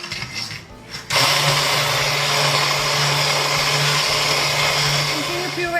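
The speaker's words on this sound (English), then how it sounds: "With an immersion blender, we're gonna puree the soup." An immersion blender purees tomato soup for a homemade tomato bisque, whirring in loud and steady after a brief lead-in of kitchen noise, with a constant motor drone for several seconds.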